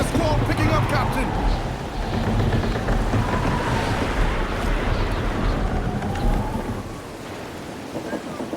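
Stormy wind and crashing waves at sea in the pirate game Assassin's Creed Black Flag, a dense, continuous roar of rushing water and gusts with a voice talking over it.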